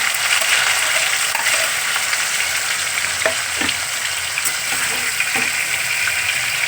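Paneer fries in a pan with a steady, loud sizzle throughout, with a few faint scrapes of stirring and no talk.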